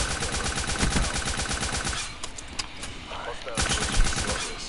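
Rapid automatic gunfire in Black Ops 3, loud bursts of rattling shots, a short lull with scattered single shots, then firing resumes, with a voice talking over it.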